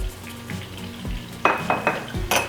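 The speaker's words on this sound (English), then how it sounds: "So you have the same spice going on the eggplant we're sauteing." Eggplant sautéing in oil in a pan, a soft continuous sizzle under a few sharp clinks and scrapes of a utensil against the pan, close and brief, without speech.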